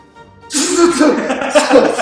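A person sneezes loudly and close up after a brief quiet moment, a sharp burst followed by a few rapid sputtering repeats.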